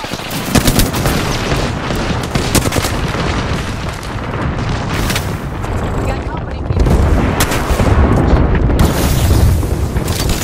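Gunfire in a military video game firefight, with dense, overlapping bursts and booming shots that run loud and continuous throughout. The shooting swells even heavier toward the end.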